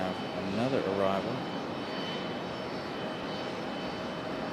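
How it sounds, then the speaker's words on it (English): An American Airlines Embraer E175 jet arriving from Cincinnati at Raleigh-Durham airport gives a steady engine roar, with someone talking briefly over it at the start. "is an Embraer E175, American Airlines coming in from Cincinnati"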